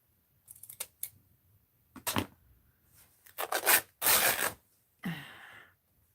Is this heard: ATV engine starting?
no